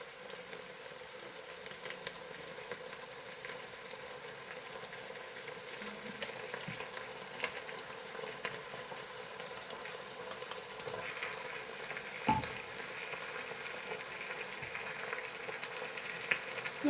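Chicken fried rice with soy sauce and tomato sauce is stirred in a hot pan, giving a soft, steady frying hiss with a few faint scraping strokes throughout.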